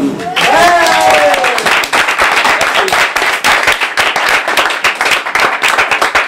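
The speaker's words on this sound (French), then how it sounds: "Je vous demande un tonnerre d'applaudissements à Cristobal" A comedy audience gives steady, thunderous applause for comedian Cristobal at his one-man show, the dense clapping loud and close throughout, with a brief voice at the very start.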